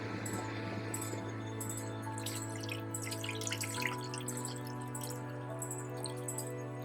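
Used running buffer from an SDS-PAGE gel tank being poured out, a steady trickling and splashing of liquid into a sink or container, close and continuous over a faint electrical hum.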